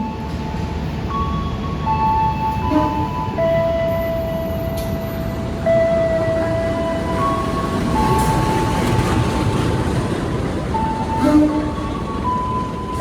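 A KA Pasundan passenger train rolls into Kutoarjo station with a steady, close rumble of wheels on rail, while thin high squeals and tones drift in and out over the running noise.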